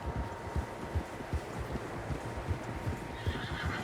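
Several horses in Red Dead Redemption 2 move along with steady, rhythmic hoofbeats thudding under a wash of outdoor ambience, with a whinny mixed in; no one speaks.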